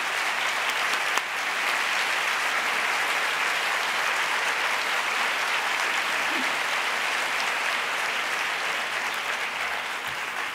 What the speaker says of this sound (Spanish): Un fuerte aplauso, por favor, para Valeria Bertuccelli.